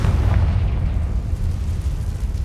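A Confringo spell explosion in Hogwarts Legacy erupts as a deep, rumbling boom that rolls on heavily for a couple of seconds, loud and dense in the low end with no voices.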